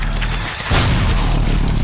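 A shotgun blast with impact effects in the video game Sanctum 2, a single loud boom striking abruptly and leaving a dense rumbling tail.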